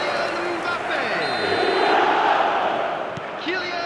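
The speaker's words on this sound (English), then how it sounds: "the crowd level has gone up a notch or 10" A stadium crowd in the eFootball video game roars loudly and continuously, a broad sustained swell of cheering with a commentator's voice over it.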